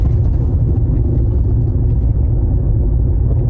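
Steady low rumble of a moving Jeep Cherokee Latitude with a four-wheel-drive fault, a deep droning, scraping hum from the rear drivetrain that stays constant throughout, with no talking.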